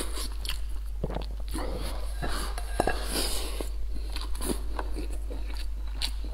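Close mouth sounds of someone eating rice mixed with roasted chili sauce, with repeated soft bites, chewing and wet smacking in a steady irregular rhythm over a low constant hum.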